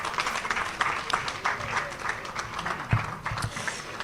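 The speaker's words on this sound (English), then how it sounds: "So I'd like you to applaud one final time this panel" An audience at a media convergence event in Ghana claps for a panel, a moderate, continuous patter of hands with a few heavier thumps mixed in.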